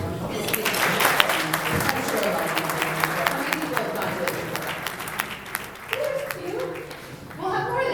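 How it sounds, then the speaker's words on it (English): A round of applause at a Rotary club meeting, moderately loud clapping from a modest group of people that rises, carries on for several seconds and fades, with talk and murmuring mixed underneath. "I think we need to give a round of applause of appreciation for Chuck Rule"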